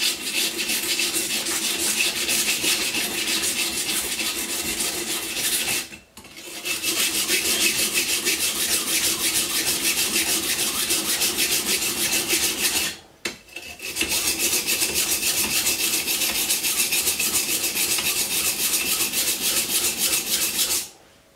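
A long steak knife blade is sharpened in stages, front, middle and back, making rhythmic rasping scrapes that run in three long continuous passes separated by two short pauses.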